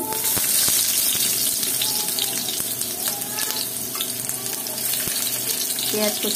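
Chopped onions frying in oil in a kadai (wok) for a fish and pointed gourd fry, giving a steady, close sizzle and crackle that runs unbroken throughout, with no talking.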